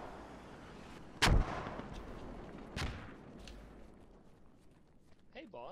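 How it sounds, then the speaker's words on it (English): Mortar shells land in the military shooter game Squad, two heavy booming impacts a second and a half apart, the first louder and closer, over steady battlefield ambience. "Man, mortars are shit."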